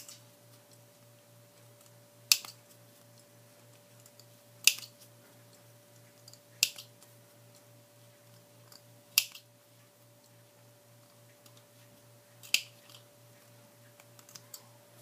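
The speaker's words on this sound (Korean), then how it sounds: "뒷부분에서 돌출된 부분을 가위로 정리해 주십니다." Scissors snipping protruding thread at the back of a buttonhole stitch, with five sharp, isolated clicks spaced a few seconds apart against a quiet hum.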